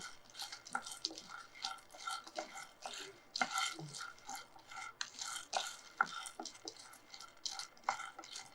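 Peanuts lightly dry-roasting in a pan for a sesame-peanut spice powder, with repeated scraping, stirring and rattling clinks of a spoon against the pan in an uneven rhythm, close and moderately quiet.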